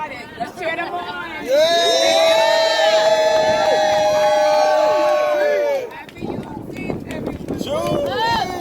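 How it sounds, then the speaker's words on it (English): Crowd at an outdoor Black Liberation flag raising ceremony in Harlem cheering and whooping loudly for several seconds, with high shouts and chatter, then scattered voices and talk continuing as the noise drops. "Let's cheer them on"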